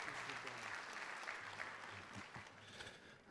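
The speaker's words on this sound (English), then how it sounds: "Let's give a big round of applause for all the festival" Audience at a high school band concert applauding the festival performers, a steady wash of clapping with a low hum and brief voices underneath.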